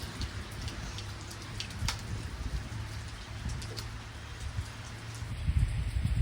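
Heavy rain falls steadily as a constant broadband wash outdoors, with faint bird calls and brief sharp drips or clicks scattered through it.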